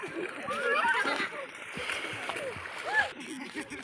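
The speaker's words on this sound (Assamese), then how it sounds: "এইটো পোৱালিবিলাক গা ধুই আছে" Children splash while bathing in a river near a worship site, with a steady watery sloshing and splatter close by and voices and chatter mixed in throughout.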